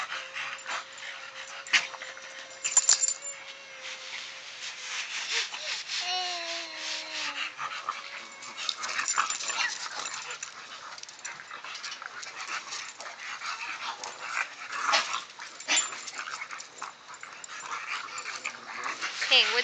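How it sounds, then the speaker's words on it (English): Dogs bark and whimper close by in scattered bursts, with rubbing and shuffling noises and a voice speaking now and then. "Why is Buddy barking?"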